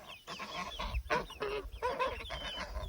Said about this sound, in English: These are the fat chickens.